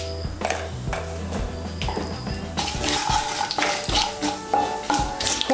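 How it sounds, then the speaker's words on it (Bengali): Whole spices for a Bengali vegetarian soybean kofta curry, a bay leaf, a dried red chili and half a teaspoon of cumin seeds, sizzle and crackle in hot oil in a pan, a steady close frying hiss with stirring scrapes throughout. "এর মধ্যে দিয়ে দিচ্ছি একটা তেজপাতা, একটা শুকনো লঙ্কা, আর দিয়ে দিচ্ছি হাফ ছোট চামচ গোটা জিরে ফোড়ন"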